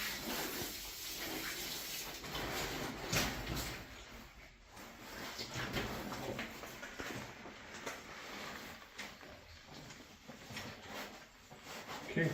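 Water rushes and hisses through the hose of a jackleg drill in a gold mine, an uneven spraying flow with occasional knocks and handling sounds.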